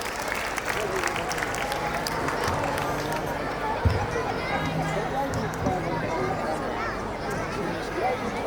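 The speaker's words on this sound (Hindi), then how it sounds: "एक जोरदार तालियां" Audience applause at a college annual function, a dense continuous wash of clapping from a large crowd, steady and loud for the whole stretch with murmuring voices mixed in.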